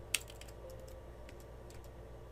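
Keys clatter on a computer keyboard in a quiet room: one sharp keystroke, then a quick run of soft taps spread across about two seconds, over a low steady hum.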